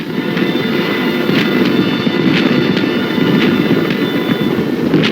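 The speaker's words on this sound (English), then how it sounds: "Marines run forward as the enemy opens fire." Korean War combat gunfire as Marines advance with tank-supported troops and the enemy opens fire: a steady, dense battle roar broken by repeated sharp bursts and cracks at irregular intervals.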